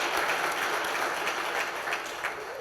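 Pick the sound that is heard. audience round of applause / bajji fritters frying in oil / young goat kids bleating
audience round of applause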